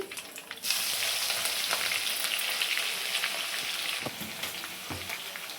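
Curry leaves and crushed garlic dropped into hot oil with mustard seeds for tomato chutney, bursting into a loud, close, continuous crackling sizzle that eases slightly toward the end, with a few stirring clicks.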